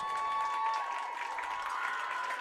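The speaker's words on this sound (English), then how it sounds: "A loud cheer from the crowd." A crowd at the end of a junior high football game between Strasburg and Limon cheers and claps in a steady, moderately distant wash of noise with no talking over it.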